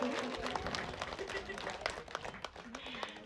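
An audience at a village gathering breaks into brisk, moderately loud clapping, with a voice continuing over the applause throughout.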